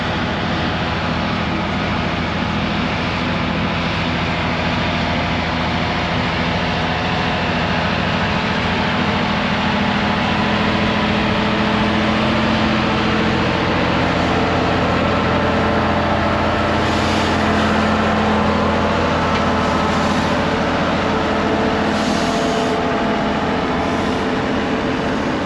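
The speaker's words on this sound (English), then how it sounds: "the scammer has picked up an engine to pull up the hill" A steam traction engine hauls a heavy load up a hill at a steam rally, a steady, laboring engine rumble droning on continuously with a low, throbbing hum, holding at a constant loud level without pause.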